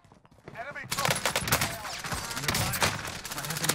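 MP7 submachine gun hip-fired in a video game: rapid, loud automatic bursts crackling almost without pause for about three seconds after a quiet start, with talking over the shots.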